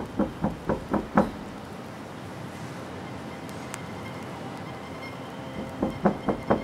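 Rapid knocking on a closed door, a burst of about five raps, a pause, then another burst of five raps, close by with no voices in between.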